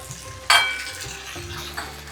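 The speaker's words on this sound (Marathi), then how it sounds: "याच्यावर आपण थोडंसं बटर टाकूया" Butter dropping onto chicken tikka in a hot pan gives a sudden loud burst of sizzle that fades over about a second, followed by faint pan clinks and a quieter, steady crackle.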